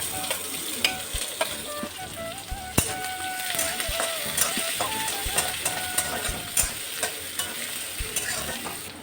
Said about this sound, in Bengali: পেঁয়াজটা তাড়াতাড়ি ভাজা হওয়ার জন্য আমি দিয়ে দেব